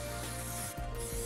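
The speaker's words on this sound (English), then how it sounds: "Take a little Paul Mitchell worked up spray, or any kind of hairspray or mousse, and just kind of get it right at the root." Paul Mitchell hairspray sprays onto hair at the root in one continuous hiss, close and loud, briefly interrupted by a short pause before resuming.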